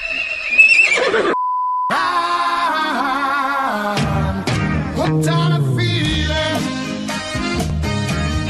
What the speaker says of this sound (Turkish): Barbicim kişner misin?